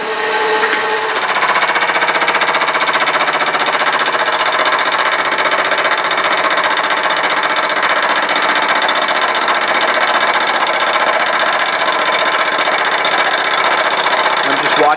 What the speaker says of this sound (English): And now I'm just fly cutting it.